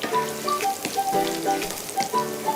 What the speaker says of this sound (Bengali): আমার পেঁয়াজটা অলমোস্ট ভাজা হয়ে এসছে।